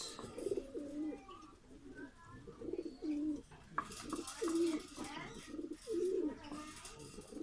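A large, active male red-necked pigeon from Munshiganj coos repeatedly up close, its throaty rolling calls coming in several distinct bursts over faint background noise.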